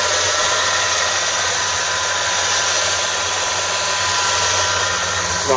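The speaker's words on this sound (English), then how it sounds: "It's not real loud, but it does have a good V8 rumble." A 1986 Chevrolet Monte Carlo SS with its original 305 HO V8 idles steadily up close, a continuous, fairly quiet low rumble with a broad even hiss layered over it and no talking.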